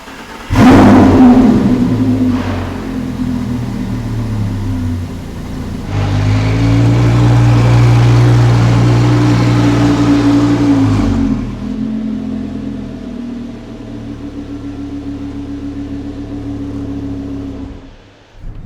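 An Audi R8 engine revs loudly and close, climbing sharply, holding a strong roar, then easing back to a lower steady idle.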